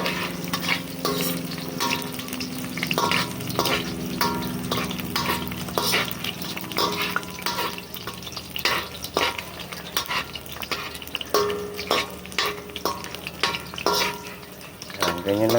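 Ginger and garlic sizzle in a frying pan for Ilocano pinakbet while a utensil stirs and scrapes in repeated knocks and clatters, close and steady.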